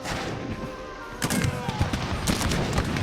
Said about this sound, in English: What is that sound? It's the cannons, of course, with sound mod. Oh, the mortar.